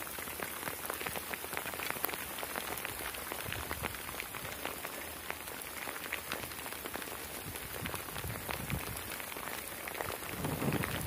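Steady rain patters on surfaces outdoors, a dense, even hiss of drops at a moderate, fairly close level, continuous with no talk and slight swelling near the end.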